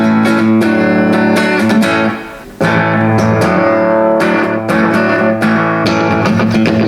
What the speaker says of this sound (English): So this one has a tape echo on it.